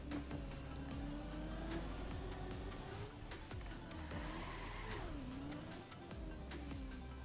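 A car engine whines continuously through a platform-map stunt stage in a racing game, a steady droning hum with shifting pitch as the car strains and revs, close and constant with no talking over it.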